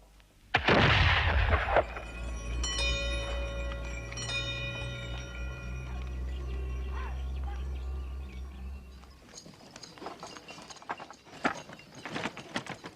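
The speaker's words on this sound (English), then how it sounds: "There's a gun fired every day at noon." A midday gun fired on the old hippie-trail route toward Kathmandu gives one loud boom near the start, followed by a long, low rumbling echo and scattered mechanical clatter that fades out over the following seconds.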